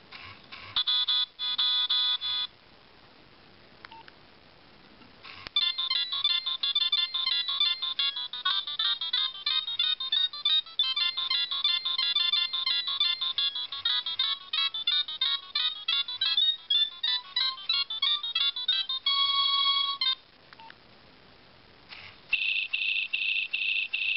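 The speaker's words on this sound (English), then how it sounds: "Nokia 3588i Gallery Ringtones." Several Nokia 3588i phone ringtone melodies play one after another, bright beeping tunes with short pauses between them, loud and close.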